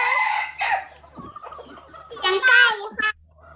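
A rooster crows in drawn-out, strained calls, loud and close, with a short pause between bursts.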